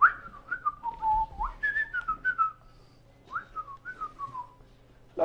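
A person whistles a short melodic tune in two gliding phrases, clear and close against quiet background.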